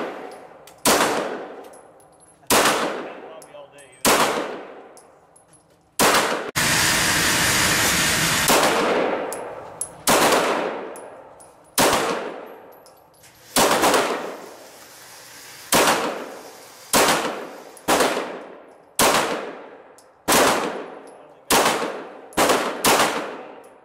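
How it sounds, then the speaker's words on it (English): Mossberg 500A shotgun shots crack one after another at an outdoor shooting range, about fifteen sharp blasts with ringing decay, spaced irregularly. A longer stretch of broadband noise sits partway through. No one speaks. "You're shooting a little too far to the left."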